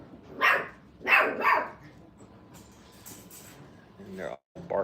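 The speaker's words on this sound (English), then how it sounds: "And they're all barking" Puppies at a training kennel bark in several loud, close bursts, overlapping and clustered early, with quieter yips after and people talking.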